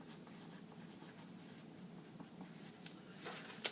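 Pen scratching steadily across paper while drawing a curved street line for a hand-drawn map, a soft continuous scribbling texture with no talk, close and fairly quiet.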